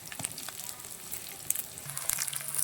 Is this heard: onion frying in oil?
yes